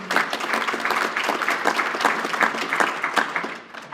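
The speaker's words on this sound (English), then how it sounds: "If I knew that was going to get an applause," An audience applauds at a panel discussion, dense steady clapping from a sizable crowd that holds for several seconds before tapering off at the end.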